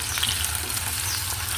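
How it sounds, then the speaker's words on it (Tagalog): Potatoes fry in a pan of hot oil, giving a steady close sizzle and crackle that runs unbroken and fairly loud throughout, with no talking. "Samahan nyo akong magprito ng ating kakainin."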